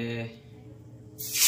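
Fish drops into hot oil in a wok and bursts into a loud, bright sizzle at the end, after a voice speaks over quieter cooking noise.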